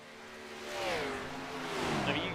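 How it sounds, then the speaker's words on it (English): NASCAR Cup and Grand National race cars roar at Talladega in the iRacing game, engine tones rising and sweeping in pitch as cars pass close by, steady and fairly loud with no talk over it. "you do hear the difference between the Cup car and the Grand National car, that's for sure"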